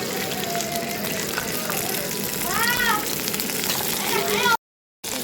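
Okra fries in hot oil in a wok with a continuous moderate sizzle, while a voice and other voices are heard over it before the sound cuts out abruptly near the end.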